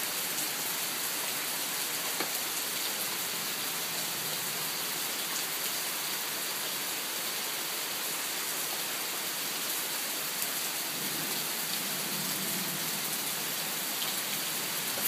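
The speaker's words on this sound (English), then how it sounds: "Look at that rain on the neighbor's yard." Steady rain falls on a neighboring yard during a severe thunderstorm, a dense continuous hiss that stays even and close from start to finish, with no voices.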